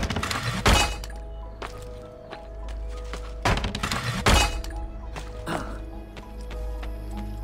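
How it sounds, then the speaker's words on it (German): New cannons firing in Assassin's Creed Brotherhood, heavy booms and crashing impacts landing at irregular intervals over a low continuous rumble. "Ah ja, die neuen Kanonen."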